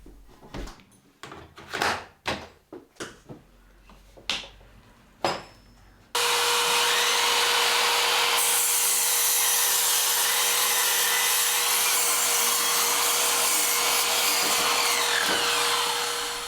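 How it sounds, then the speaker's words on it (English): A battery-powered Trend 18-volt miter saw slices through 4x2 timber, a steady loud whining cut running about ten seconds after a series of sharp knocks and clunks from setting up the wood. "I'm going to set up my new Trend 18-volt miter saw and use it for the first time to get these bits cut to size"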